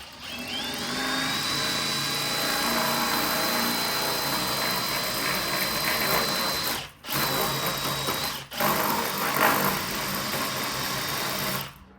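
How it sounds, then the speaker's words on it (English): A Hilti CNC machine drill whines steadily with a high pitched tone and grinding texture, briefly cutting out twice before resuming, no voices. "Goes the drill bit. Excuse me, my CNC. Goes my CNC."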